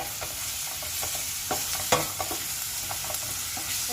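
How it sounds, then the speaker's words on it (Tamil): Onion and ginger garlic paste are stirred in a hot pan for fried chicken gravy, with a continuous sizzle broken by several sharp spoon scrapes and clinks, one louder knock near the middle. "இப்போது இஞ்சி பூண்டு பேஸ்ட் ஆட் பண்ணிடலாம் திருப்பியும் நல்லா மிக்ஸ் பண்ணுங்கள்"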